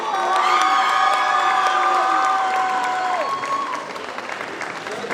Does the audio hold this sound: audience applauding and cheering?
yes